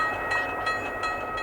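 A train rolls past very close to a house, a restored 1897 rooming house, making a steady, moderately loud rumble with a faint metallic ring throughout, and no voices.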